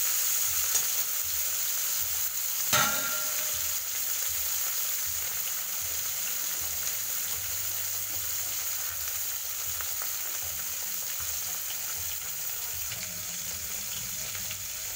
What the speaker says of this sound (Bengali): দেখো বাকি যে দুটো মাছ আছে আমি ভেজে নেব।